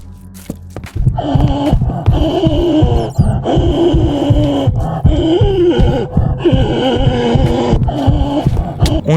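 The Mimicker creature in Minecraft gives off a loud, close, rhythmic throbbing, with deep heartbeat-like thuds under warbling, groaning tones that pulse steadily for several seconds.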